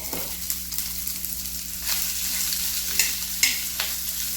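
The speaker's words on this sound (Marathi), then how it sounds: "आधी कांदा छान परतून घेण्यासाठी 1 चमचा तेल टाकलं होतं" Chopped onions sauté in a spoonful of oil for a paneer butter masala gravy, giving a steady close-up sizzle with a few sharper scrapes of stirring and no voices.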